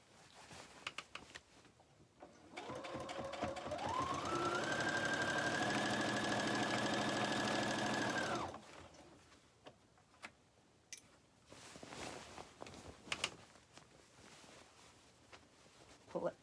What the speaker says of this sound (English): just going to go around on the top stitch right here